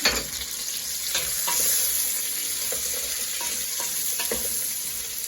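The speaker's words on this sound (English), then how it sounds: "Let's give that a quick stir" Chilli con carne sizzles steadily in a hot pan as a spoon stirs it, with a few scraping strokes over the constant frying hiss, close up and with no voices.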